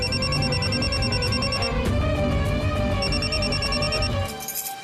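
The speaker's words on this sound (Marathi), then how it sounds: "पम्मीचा फोन." A telephone rings with repeated bright electronic trills, loud and close, in two bursts separated by a short pause.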